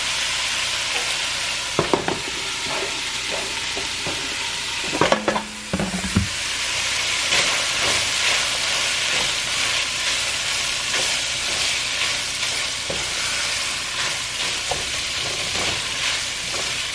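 Onions and garlic frying in a pot of tortellini soup, giving a steady broadband sizzle with occasional stirring clatter and a brief louder scrape, no talking.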